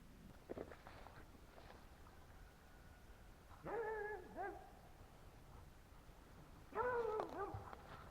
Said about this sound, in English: Well, what are you barking at over there?